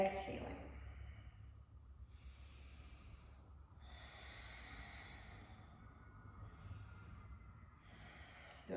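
Slow, soft breaths during a gentle yoga sequence, several quiet airy exhales spaced a couple of seconds apart, close and faint against a hushed room.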